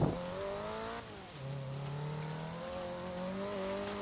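A little Renault races in the Forza video game, its engine note climbing and sliding through gear changes, steady and fairly loud with a brief dip partway through.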